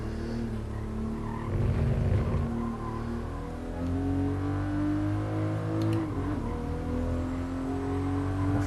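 A 1997 Toyota Supra RZ races through GT Sport corners. Its engine whines steadily and climbs in pitch, with a brief tire scrub around a chicane and a gear change near the end, loud and close with no talking.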